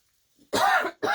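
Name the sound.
cough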